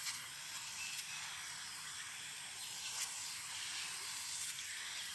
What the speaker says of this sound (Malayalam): ഇത് നമുക്കൊന്ന് നനച്ചു കൊടുക്കാം.